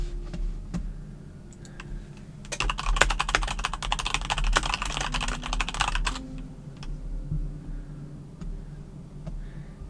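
Rapid typing on a computer keyboard, a dense burst of close, crisp key clicks lasting a few seconds in the middle, with sparse isolated taps before and after over a low background hum.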